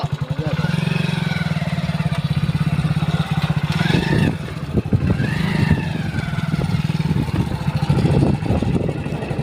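A motorcycle engine runs nearby with a steady low throb, briefly revving and clattering midway, loud and continuous.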